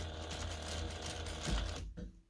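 Sewing machine stitching down the edge of a trouser zipper, a steady close mechanical whir with rapid needle rhythm running continuously before stopping near the end.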